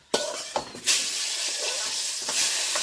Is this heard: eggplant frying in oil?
yes